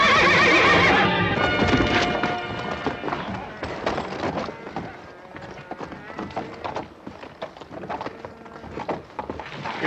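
A loud horse whinny rings out, followed by scrambling, thudding hoofbeats and clattering, with voices mixed in.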